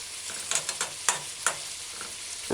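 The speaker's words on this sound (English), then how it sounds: "I separate the onion rings, and kind of put them on the side of the skillet or the frying pan" A beef burger and separated onion rings sizzle together in a skillet for a jerk burger, giving a steady close frying hiss broken by several sharp crackling pops.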